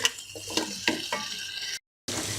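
Mutton sautéing in a pan, a continuous close sizzle with a few sharp stirring clatters, briefly cutting to silence before the frying resumes.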